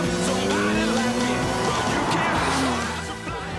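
A Noble sports car drives hard, its engine note rising and falling steadily while tires squeal sharply through a corner, loud and close, with faint traces of a voice underneath.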